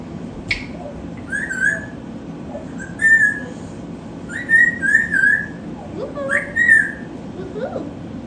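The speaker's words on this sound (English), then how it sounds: "Dawson, whistle." A pet bird gives a series of short, bright rising whistles in several bursts, close and clear over a quiet background, with a faint human voice in between.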